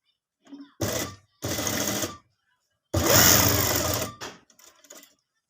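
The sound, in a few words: sewing machine stitching a dupatta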